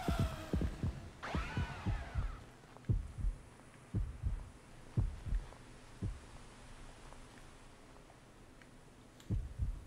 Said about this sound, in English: You can hear the stages of the heartbeat go down.